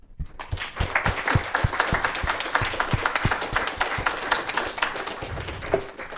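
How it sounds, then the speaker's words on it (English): Conference audience at a programming-languages session giving a round of applause to the speakers, a dense, sustained clapping from a mid-sized crowd that starts abruptly and continues evenly throughout. "give another round of applause to all the speakers in this session"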